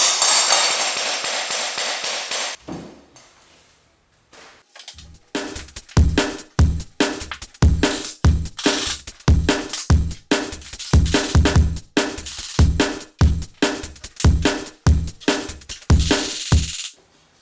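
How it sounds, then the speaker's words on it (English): A tapping tool knocks laminate plank flooring together during a floating-floor install: after a brief burst of noise, a steady run of about twenty sharp, close hammer-like taps follows at a regular pace with short pauses. "I use this handy tool, put it behind there, tap it over, then I take it to the other end and I tap our seams together"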